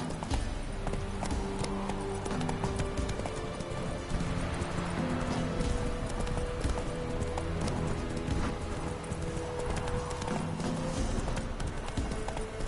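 Roach the horse gallops in The Witcher 3, rapid rhythmic hoofbeats pounding on and on, close and steady beneath game music and ambient noise, with no clear talk.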